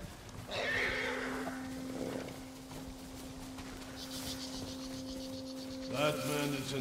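A horse whinnies near the start, then another longer neigh rises near the end, over a steady hum and soft background noise, in the video game Ghost of Tsushima Director's Cut on PS5.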